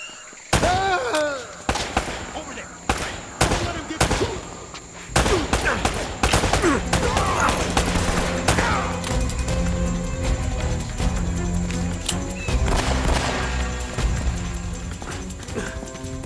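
Gunfire rattles through a firefight in the video game Uncharted, with sharp single shots at first, then dense bursts of automatic fire and rapid reports continuing loud and close over a busy background.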